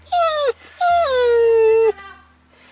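A dog whimpers in two long, high, drawn-out whining cries that slide downward in pitch, close and fairly loud, with a low steady hum beneath and a quieter gap between the cries.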